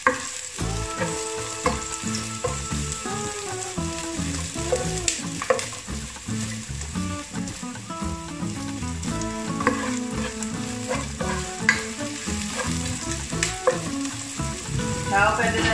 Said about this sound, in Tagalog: Next, yung ating sibuyas. Hintayin lang natin siya maging light.